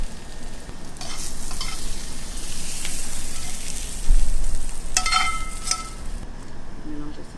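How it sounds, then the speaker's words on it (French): Tartiflette mixture stirred together in a pan, giving a steady, close scraping and squelching that runs the whole time, with a few brighter clinks of the utensil near the end. "On va tout mélanger ça."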